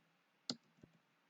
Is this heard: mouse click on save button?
yes